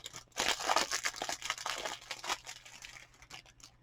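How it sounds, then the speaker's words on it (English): Plastic packaging crinkles and rustles close by during unboxing, a busy run of crackling handling noises for a few seconds that fades toward the end, with no talking. "So excuse for the crinkling."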